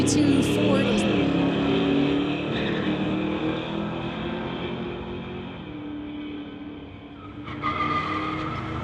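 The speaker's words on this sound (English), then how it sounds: "2019 Camaro from Abbotsford going against John from Delta in the 62 Ford" A 2019 Camaro from Abbotsford and a 1962 Ford drag racing at a street-legal event, loud engines roaring and revving across the lane with a brief tire squeal, a track announcer's voice faintly underneath.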